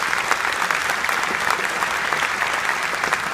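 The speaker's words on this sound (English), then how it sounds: "So give them another round of applause." A crowd at an 8th grade spring band concert claps loudly and steadily for the band, a dense, even wash of applause with no voices over it.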